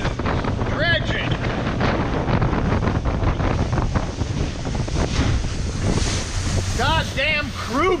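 Crew boats churn past on a river with a steady rushing wash and wind buffeting the microphone, and a few short squeaky cries near the end.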